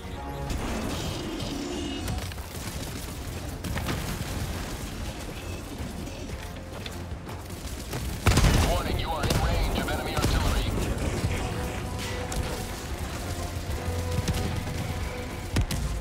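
In Helldivers 2, a robot enemy's artillery and gunfire rumble through a dense battle din, with a sharp, heavy blast standing out midway and continuous crackling, booming fire under it.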